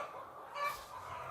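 Chickens clucking inside a chicken house holding about 1000 laying hens, a soft steady murmur of fowl with one slightly louder call rising briefly in the middle, heard from a moderate distance.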